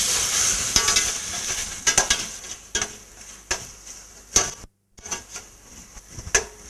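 Tomatoes with ginger garlic paste fry in a pan for potato masala, giving a steady close sizzle broken by repeated scrapes and knocks of stirring against the vessel, with no talking.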